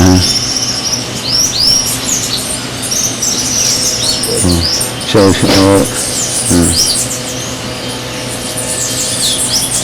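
Many birds calling in Trinidad, a dense chorus of chirps, whistles and trills layered over a steady background hum, with several louder nearby calls standing out midway.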